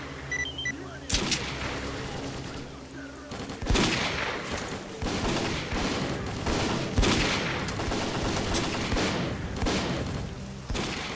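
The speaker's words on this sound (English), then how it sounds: "Shoot those bastards now!" Gunfire rings out in S.T.A.L.K.E.R.: Call of Pripyat, a dense fusillade of rifle shots and booming bursts that keeps going for about eleven seconds over a loud game soundscape.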